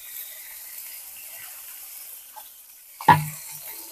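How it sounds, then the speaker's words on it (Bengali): Spice paste (masala) with salt frying in oil in a pan for a stuffed teasel gourd (kakrol) dolma, giving a soft, steady sizzle with a single brief clank near the end. "দিয়ে এবার এটাকে মশলাটাকে আমরা ভালো করে কষিয়ে নেব।"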